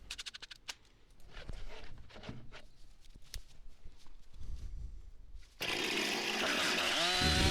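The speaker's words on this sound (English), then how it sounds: "Use a chainsaw to trim the edges of the plywood a little bit." A chainsaw trims the edges of plywood sheets; scattered quiet knocks and taps come first, then the saw bursts in loud and close and runs steadily to the end.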